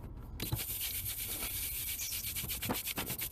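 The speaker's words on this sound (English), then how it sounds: "Brush them again." Car floor mats scrubbed with a brush during detailing, a close, continuous scratchy rubbing with quick repeated back-and-forth strokes and no voices.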